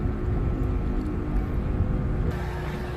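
A low, continuous rumble of an airplane engine fills the air overhead, steady and fairly loud, with faint background clatter.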